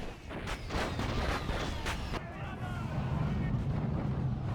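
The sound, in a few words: Korean rocket launchers firing in video game Medieval II Total War mod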